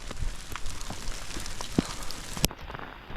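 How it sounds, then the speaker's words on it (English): Steady light rain patters outdoors on a monsoon hike in the Indian mountains. The soft, continuous drizzle has faint scattered drop taps and a couple of sharper ticks, with no talking. "It's raining,"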